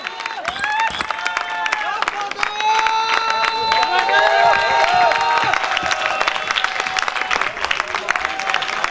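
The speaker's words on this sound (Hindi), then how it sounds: "दोस्तों जोरदार तालियां।" Loud sustained clapping from a seminar crowd fills the room, thick and steady with cheering and raised voices mixed in throughout.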